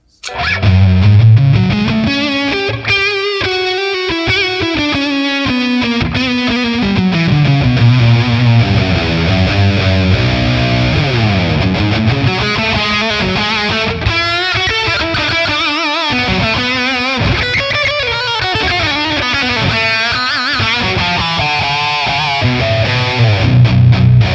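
Distorted electric guitar plays sustained, bending lead lines with a washy reverb tail, loud and continuous, through a ToneX ONE high-gain amp model.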